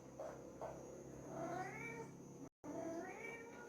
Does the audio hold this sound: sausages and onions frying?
no